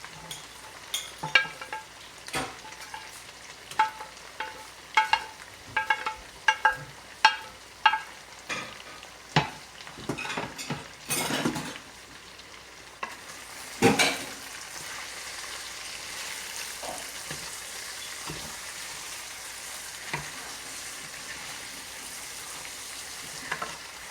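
Washed chopped spinach hits a pan of potatoes for an aloo palak dish, giving a bright sizzle with repeated sharp scraping stirs in the first half, then a steady, softer frying hiss, close by with no talking.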